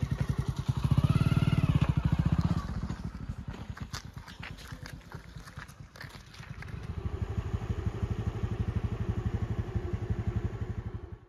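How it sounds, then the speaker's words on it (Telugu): A motorcycle starting up with a rising rumble, dropping to a ragged idle with clattery pops, then revving up again into a steady pulsing engine drone as it pulls away, close and fairly loud. "ప్రజెంట్ ఇప్పుడు బైక్ దగ్గర ఉన్నాను. ఇప్పుడైతే నేను స్టార్ట్ అవుతున్నాను."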